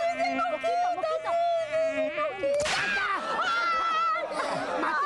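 High whining buzz of a mosquito, apparently imitated by a voice in a comedy sketch, rising and wavering over several seconds while people talk and laugh.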